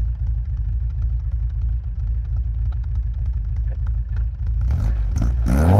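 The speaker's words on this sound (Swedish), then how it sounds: "Så jag går och gasar till där så får vi se." A 1965 Volvo Amazon engine idles with a steady, close, lumpy rumble and light clatter, then the throttle opens and it revs up louder near the end.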